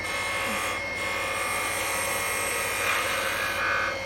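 Wood spindle being cut on a lathe with a 3/8 spindle gouge while shaping a bead and bulb ornament, a steady loud whirring scrape that continues unbroken throughout.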